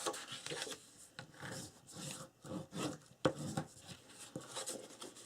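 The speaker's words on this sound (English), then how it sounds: "we're going to go ahead and fold and burnish our score lines" Cardstock is folded and burnished along score lines, producing faint, close scraping and rubbing strokes in irregular bursts with a few small taps between them.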